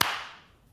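A single sharp clap imitates a boxer's punch, one crisp crack that decays quickly.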